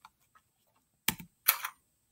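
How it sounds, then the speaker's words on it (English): Two close, crisp taps on a computer keyboard after two faint earlier clicks, in an otherwise quiet room. "So I'm going to type a few words."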